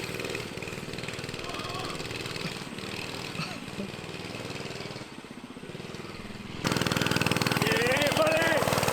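A cheap mini bike's small engine drones steadily while being ridden over bumpy ground, buzzing near and loud, then swelling louder toward the end as the throttle opens.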